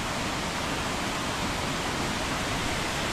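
Rushing water at Mae Pan waterfall in Chiang Mai pours down in a dense, steady roar that fills the air without pause, loud and close, with no voices.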